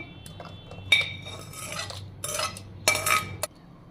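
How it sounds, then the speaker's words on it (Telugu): Spoon clinking and scraping in a pan or bowl while tempering oil is mixed into ginger mango pickle, with a few sharp metallic knocks over soft stirring and no talk. "ఇప్పుడు దీన్ని ఇందులో కలుపుకుందాం నూనెను ఫైనల్గా"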